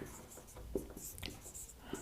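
Writing on a board during a chemistry lesson on balancing equations, soft scratchy strokes with a few small taps, heard faintly amid room noise and a teacher's voice.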